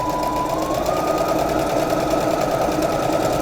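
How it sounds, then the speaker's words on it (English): Home sewing machine stitching fabric after the presser foot is lowered, a steady close whirring motor hum with a rising pitch at the start, running continuously and alone. "we are going to lower that presser foot, and then we are going to slowly start sewing again"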